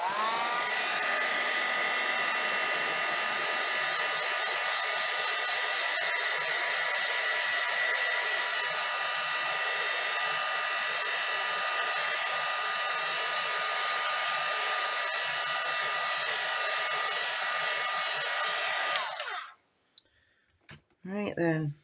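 A hair dryer blows steadily over watercolour paint for about nineteen seconds, a loud, constant whirring roar, then clicks off, leaving a few faint clicks and handling noises.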